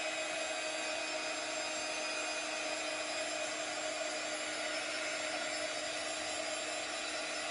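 A hair dryer drying paint in an oil and water painting technique, blowing as a steady, loud, even whir that runs unbroken with no talk.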